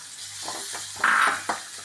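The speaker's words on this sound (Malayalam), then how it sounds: "ഇപ്പോൾ ഒരു ചീഞ്ചട്ടി വെച്ചിട്ട് അതിൽ 1 സ്പൂൺ വെളിച്ചെണ്ണ വീത്തിൻ്റെ അതിൽ കുറച്ച് സവാള കുനു അരിഞ്ഞിട്ടിട്ടാണ്." Chopped onions frying in a spoonful of coconut oil in a clay pot, a soft continuous sizzle with a brief louder hiss and a few light stirring scrapes, heard up close.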